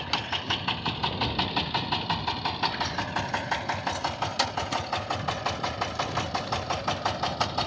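A power tiller tractor engine idles on a farm, a steady rapid single-cylinder chugging with regular knocking pulses, moderately close and running alone without talk.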